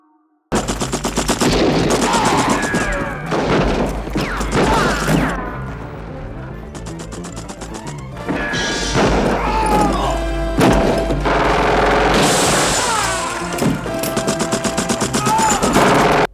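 Sustained machine-gun and pistol fire from a Charles Bronson shootout between two gangs at a desert oil well, with dense rapid bursts and loud crashing impacts that run almost continuously, then pause briefly and resume.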